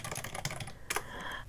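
Fast typing on a computer keyboard: a close, dense run of light key clacks, pausing briefly before a final burst, with no talk.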